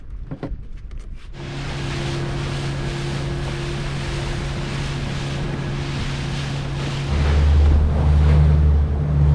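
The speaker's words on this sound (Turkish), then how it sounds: "Bir anda çok büyük dalgalar çıktı." Large sea waves slap and churn against a motorboat, under a steady engine drone and wind rushing over the microphone, growing louder near the end with no talk.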